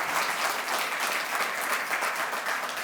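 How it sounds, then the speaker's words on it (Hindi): An audience claps to welcome guests at a National Education Day ceremony at Subharti University. The applause is dense and continuous and fills the whole stretch at moderate volume. "मैं आपसे अनुरोध करूंगा कि आप तालियों से स्वागत अभिनंदन करें।"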